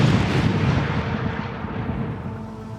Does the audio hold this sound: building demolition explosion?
yes